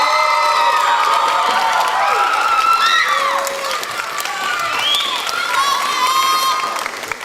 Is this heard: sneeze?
no